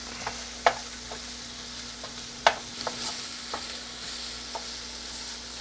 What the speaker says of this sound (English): break up our sausage a little bit more and stir that